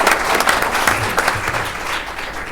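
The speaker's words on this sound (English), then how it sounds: "Keep clapping for a second." Steady audience clapping at a school district State of the Schools event, a dense continuous patter from a large crowd that stays even throughout.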